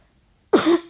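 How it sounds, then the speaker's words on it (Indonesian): A single short cough from a person, close and clear after a moment of near silence, with no speech over it. "Maaf, saya lagi batuk."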